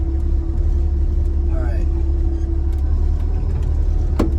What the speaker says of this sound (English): we're driving an F100